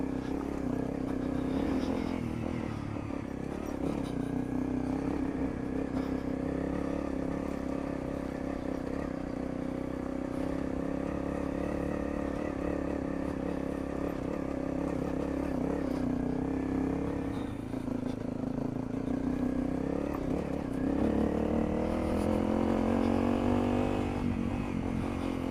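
A motorcycle on Heidenau K60 Scout tyres rides along with a continuous engine drone and road and wind noise, its pitch shifting with throttle and rising near the end.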